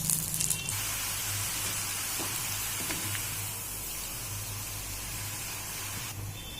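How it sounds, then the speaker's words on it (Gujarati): Gram flour sev fries in hot oil, giving a steady, dense sizzling hiss up close that holds evenly throughout with no voices. "સેવ આપણી તળાઈ ગઈ છે અને અલગ બાઉલ ડીશમાં કાઢી લઈશું"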